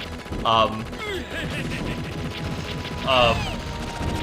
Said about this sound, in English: BB Hood has the weaker regular shot